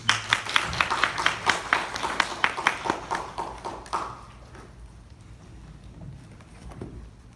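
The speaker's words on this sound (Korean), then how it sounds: "박수 한번 하시겠습니다" A church congregation at a Mother's Day service claps together in a steady, rhythmic beat that is fairly loud for a few seconds, then thins out and fades into quiet room noise.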